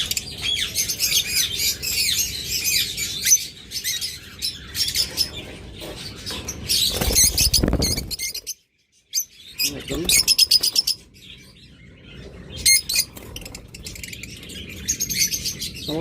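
A creamino pair of pet birds for sale squawks and chirps in shrill, repeated bursts, near and fairly loud, alternating with someone talking and a brief silent gap.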